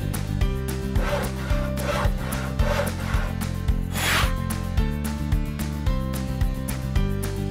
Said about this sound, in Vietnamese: các bạn hãy cưa bỏ phần cán của kính